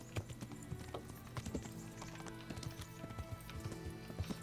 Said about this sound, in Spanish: voy a tener que ir a caballo